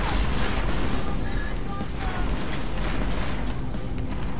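Battle rifle fire with armor-piercing rounds in Deus Ex: Mankind Divided, a dense, loud barrage of sharp reports and booming impacts blending with mechanical clatter throughout.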